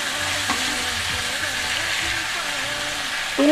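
Broiler chicken pieces fry in a pan with chopped tomato and sesame seeds, a steady loud sizzle with occasional stirring scrapes, close to the microphone and without talk.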